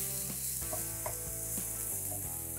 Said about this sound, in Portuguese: Então agora eu vou dourar essa cebola. Vou deixar suar, né?